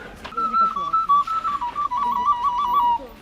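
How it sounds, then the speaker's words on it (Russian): A person whistles a sustained, wavering tune close by inside Nesvizh Castle in Belarus, with one steady melodic line running through the whole few seconds and faint room noise beneath it. "А у нас свистеть не принято."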